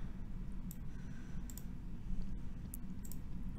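Faint, sharp mouse clicks come in quick pairs a few times over a low, steady background hum.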